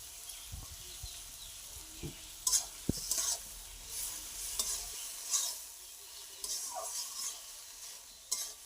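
Turmeric and dried chili powder being stirred in a hot pan for a taro-stem dish, with a soft steady sizzle and scattered scraping strokes of the spoon, close and moderately quiet, with no talking.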